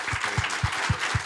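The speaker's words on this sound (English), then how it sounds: "I just want a round of applause for that guy because he does a great job" Faint audience applause after a music-industry conversation, a soft steady patter with low regular thumps running through it.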